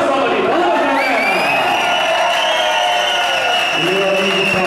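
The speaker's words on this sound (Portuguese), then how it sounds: "Uma salva de palmas, galera!" A crowd cheers and applauds loudly and continuously at a family tribute event in Vila Sabrina, São Paulo's north zone, with whistles, whoops and shouting voices mixed through the sustained roar.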